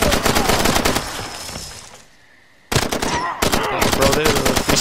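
Rapid automatic gunfire in the first-person shooter Far Cry 2, loud dense bursts of shots with a brief lull in the middle before the firing resumes just as hard, close and dominant.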